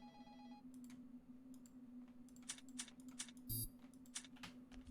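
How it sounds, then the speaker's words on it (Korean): Quiet phone ringing in a Japanese horror house exploration video game, faint electronic tones over a steady hum, with scattered clicks and taps through the stretch. "방금 전화 같은 게 오지 않았나요?"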